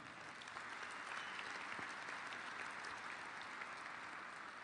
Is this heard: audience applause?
yes